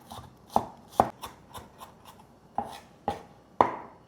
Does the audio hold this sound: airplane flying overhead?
no